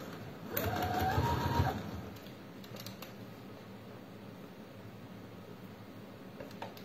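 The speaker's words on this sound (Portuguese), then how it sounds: "eu vou fazer aqui um pespontinho assim à beirinha" A sewing machine topstitches along the edge of fabric in one short whirring burst of about a second, followed by quiet handling noises.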